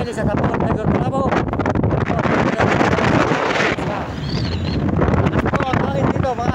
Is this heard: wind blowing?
yes